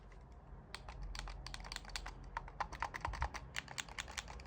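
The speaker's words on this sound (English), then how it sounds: "Clicky buttons on the top for the triggers" Trigger buttons on a Powkiddy X28 T618 retro handheld are pressed, giving quick runs of small, sharp, fairly faint clicks, close by and steady.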